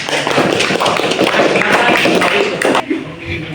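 A classroom of students applauding a presenting group, a dense, loud burst of clapping hands that fills the room for about three seconds before tapering off with some shuffling.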